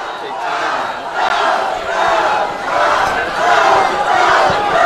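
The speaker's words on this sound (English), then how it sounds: "Wheaton Academy student section cheering their team on." High school student section at a Wheaton Academy football game cheering and chanting, a loud, sustained crowd roar that swells and surges in waves throughout.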